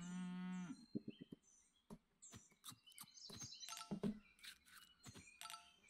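A cartoon cow moos once at the start of a round in the Super Auto Pets video game, followed by a busy run of short chirps, clicks and bright game effects, with no talking.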